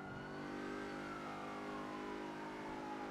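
Car engine revving steadily in a GTA video game, a continuous faint whine rising and falling in pitch with no talk over it.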